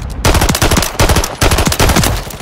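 Rapid bursts of automatic machine gun fire in the Modern Warfare III shooter during an objective-capture match, loud and close, several sustained volleys separated by brief pauses.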